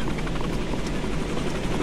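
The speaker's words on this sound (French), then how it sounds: "Bon, bah alors, l'hélico est devant." Helicopter in the video game Escape Dead Island, a steady, loud rotor roar filling the scene without a break.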